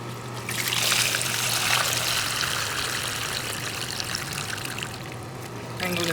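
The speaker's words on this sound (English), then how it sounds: "so to drain it out, you're gonna use this little drain right here" Water drains from the tank of an EGO 56V 9-gallon cordless wet/dry vacuum through a small drain, a steady close trickling pour that runs continuously without talk.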